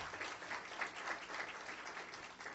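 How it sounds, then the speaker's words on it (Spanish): A church congregation applauds in steady, dense clapping that fills the room for a couple of seconds, moderately loud with no voices over it. "Denle un aplauso al Señor para que se anime un poco."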